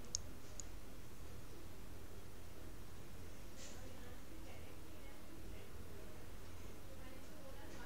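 A computer mouse gives a few faint, isolated clicks, two close together at the start and one more later, over a steady low hiss of background noise.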